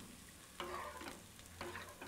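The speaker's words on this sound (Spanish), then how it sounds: "agregamos la fécula de maíz despacio y vamos revolviendo" Vegetable sauce with tomato paste being stirred in a pan, giving two short scraping, sizzling bursts about a second apart over a low simmer, close and fairly quiet.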